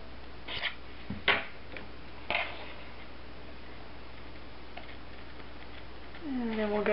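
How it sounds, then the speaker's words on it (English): Large scissors cut through paper card in a few crisp, separate snips over a low room hum, and a voice starts speaking at the end. "Now I want to cut this out, starting with my large scissors"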